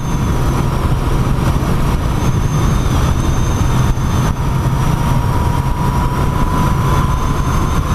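An air-cooled Moto Guzzi V7iii Special motorcycle engine drones steadily while riding, a loud continuous low rumble with wind rush and no break across the stretch.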